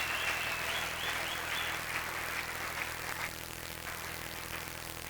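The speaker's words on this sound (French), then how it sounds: "Est-ce que tu peux acclamer pour le Seigneur?" A church congregation clapping for the Lord, steady applause from a crowd with some high whistles or cheers near the start, fading slightly toward the end.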